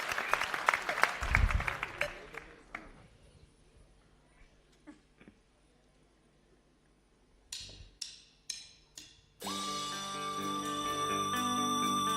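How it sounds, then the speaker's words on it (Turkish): A studio audience on the Turkish talk show Beyaz Show applauds for Gökçe: a loud burst of clapping that fades within a few seconds, followed by scattered knocks and then sustained music. "Alkışlar Gökçe için."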